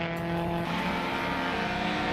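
Racing Minis, a Scirocco and a Lada on a track with tight corners and long straights, engines whining at high revs in a steady, fairly faint drone.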